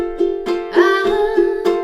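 A ukulele strums a few bright chords of a song in quick rhythm, each strum ringing close and clear before the next.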